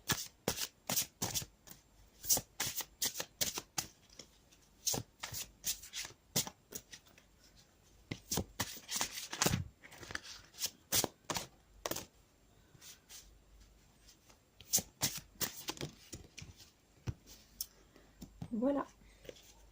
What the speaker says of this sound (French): je tire une carte pour le domaine des énergies générales